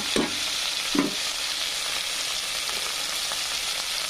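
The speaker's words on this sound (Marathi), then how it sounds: "टमाटर असं छान फ्राय होऊ द्यायचं, मऊ होऊ द्यायचं टमाटर." Tomatoes frying in a pan for a drumstick (shevga) dish, a steady close sizzle with a couple of soft scraping stirs near the start, continuing evenly without speech.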